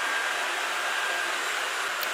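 Amarey A900 robotic vacuum cleaner running under a dresser, a steady airy whirring hum that stays constant and fairly close, with no talking.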